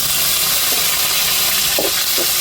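Tomatoes and chillies frying with curry leaves in a pan for a fish curry, a continuous close hiss and sizzle with a few faint stirring knocks.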